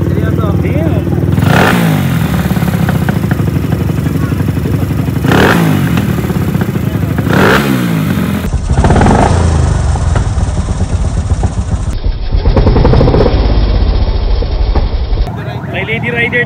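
A loud motorcycle engine runs and revs in bursts close by, with people talking over it throughout.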